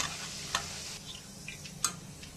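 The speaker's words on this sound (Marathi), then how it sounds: "हे सुद्धा आपल्याला छान असं क्रिस्पी होईपर्यंत तळून घ्यायचे" Roasted chana dal deep-frying in oil for poha chivda, a faint steady sizzle with a couple of light metallic taps from a ladle.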